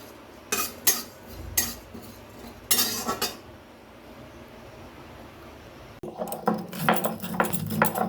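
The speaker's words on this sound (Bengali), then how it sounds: "এবার পাঁচফোড়নটাকে আমি নেড়ে চেড়ে ভাজতে থাকবো" Panch phoron spices are stirred and fried in a hot wok, with bursts of metal spatula clinks and scrapes against the pan, quiet gaps between them, then denser clattering toward the end.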